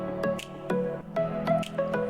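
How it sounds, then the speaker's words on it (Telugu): Cornflour water is poured into a Maggi manchurian mixture and stirred, giving repeated wet, squishy drips and slaps in an uneven rhythm, close and moderately loud with no talking. "ఇప్పుడు కార్న్ఫ్లవర్ వాటర్ వేసి"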